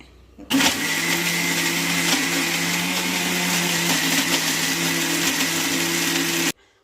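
Mixer grinder blending onion, coconut, cumin and tamarind into a fine masala, a loud steady whirring drone that starts abruptly, runs for about six seconds and cuts off.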